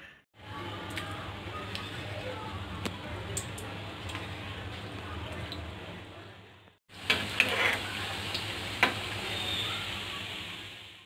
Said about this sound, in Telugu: ఇప్పుడు వీటిని డీప్ ఫ్రై చేసేసుకుందాం.